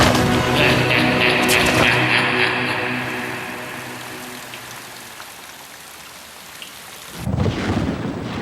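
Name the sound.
thunderstorm with rain and thunder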